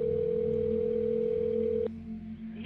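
A telephone dial tone hums steadily on an emergency call recording, then cuts off abruptly near the end, leaving faint line noise.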